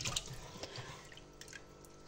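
Water with cucumber seeds drains through a small kitchen sieve, giving soft close-up splashes and drips that fade to a light trickle, with no one talking.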